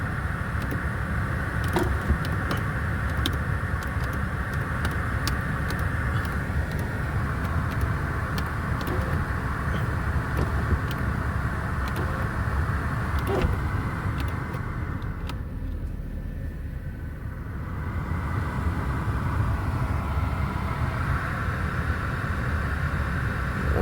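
A wrecked Mercedes W220 S-Class from an insurance auction idles after a jump start, a steady close engine hum with a broad even drone that dips slightly partway through.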